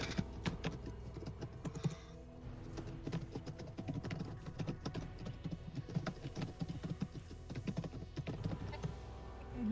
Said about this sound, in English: I can hear you're typing.